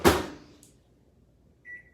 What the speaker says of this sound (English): We're gonna put this in the microwave for 6 minutes and we'll check it and see how it's doing.